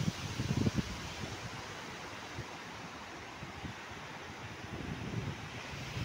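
Strong sea waves at Juhu Beach, Mumbai, heard from a boat: a steady rush of surf and wind buffeting the microphone, with heavier low thumps of water near the start.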